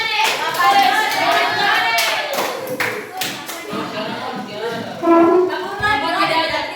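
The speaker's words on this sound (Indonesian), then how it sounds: "Tepuk tangan untuk Molis." Students at an Islamic junior high school (MTs) in Gorontalo clap together in a classroom, an uneven burst of hand claps with children's voices and chatter mixed throughout.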